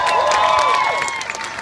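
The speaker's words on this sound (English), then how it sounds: "Give them a round of applause." Audience at a Teen Titans Go panel claps and cheers, a dense crowd wash with scattered whoops and whistles throughout.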